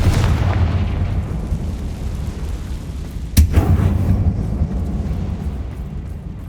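Confringo explosive spell in Hogwarts Legacy detonates inside a closed mine: one sharp, loud blast with a brief rumbling tail, heard over a steady low ambient drone with no talk.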